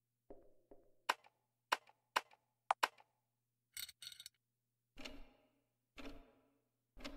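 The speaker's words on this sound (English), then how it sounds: "Tick tock. Clock starts ticking." A clock in the game The Witch's House ticks in a series of sharp, clear clicks, followed by several duller, longer knocks, each separate against near silence.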